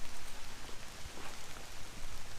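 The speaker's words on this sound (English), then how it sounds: "Right, it really is raining now." Rain falls in woodland, a soft, steady patter of drops on leaves and ground, fairly faint and continuous with no talk.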